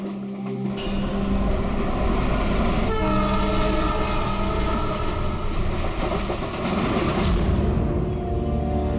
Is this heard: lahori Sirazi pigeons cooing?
no